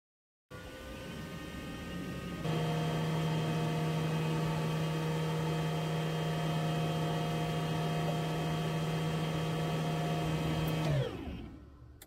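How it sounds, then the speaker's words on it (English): A Morus Zero portable clothes dryer runs steadily with a droning motor hum and a whirring spin, rising in pitch once it gets going, then winds down near the end; used inside a van. "It still spins to keep your clothes from getting wrinkled."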